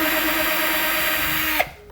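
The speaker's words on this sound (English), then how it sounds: "we're gonna drill some pilot holes for the screws that came with the clothesline that go into the kayak" A power drill bores pilot holes into a plastic kayak hull for clothesline mounting screws, whining steadily and loud for about a second and a half before winding down and stopping.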